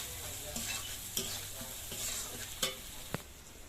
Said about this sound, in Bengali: লঙ্কা গুঁড়ো, লবণ দিলাম, খানিকটা নাড়াচাড়া করছি